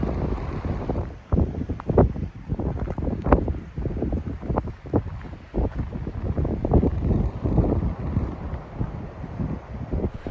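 Strong, gusting wind buffets the microphone on a mountain top in the Laguna Mountains, a loud continuous roar with repeated surging blasts throughout.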